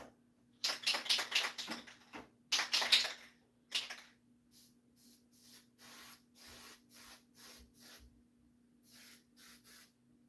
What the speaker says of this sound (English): let's take this to the spray booth and seal it all up